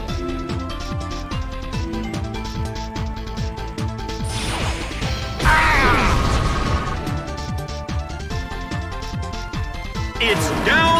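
A heavy smashing hit lands in a Pokémon Battle Revolution match, a loud crash with a burst of impacts over busy game music and an excited announcer's voice.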